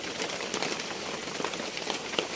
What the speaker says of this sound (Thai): รู้สึกว่าที่นี่ฝนตกหนักมากนะครับวันนี้นะครับ